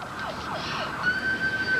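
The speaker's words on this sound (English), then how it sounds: "An Emerson ambulance crew working the race arrived within 3 minutes, led by paramedic Jeff Evans." An ambulance siren, heard alone and fairly close, with a rapid wailing sweep that shifts into a steady high tone.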